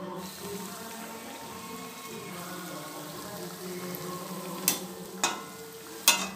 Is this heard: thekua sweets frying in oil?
yes